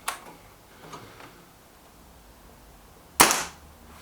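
A Kral NP-02 laminate air rifle fires a single sharp, close crack after a few faint ticks, followed by a brief decaying tail in an otherwise quiet setting.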